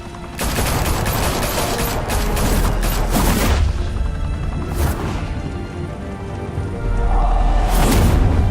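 Heavy gunfire erupting in Batman: The Telltale Series, a loud sustained fusillade of rapid shots that keeps rolling for several seconds, with brief surges and small lulls.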